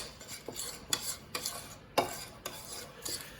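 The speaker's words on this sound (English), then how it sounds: "And you mix those 2 things up real quick." Melted margarine and sugar being mixed for banana bread, a utensil scraping and clinking against a bowl in quick, regular strokes, close and moderately loud, with no talking.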